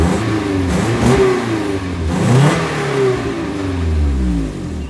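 A Nissan 300ZX engine revving repeatedly with a raspy, rough tone from an exhaust leak at a rotted resonator, several rises and falls close by with no talk.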